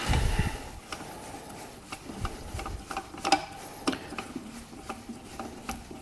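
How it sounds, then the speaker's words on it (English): Mockmill grain mill being tightened down after assembly, giving a run of quiet, close ticking clicks and light rubbing of the parts, spaced irregularly over a low background hum. "go ahead and tighten that down"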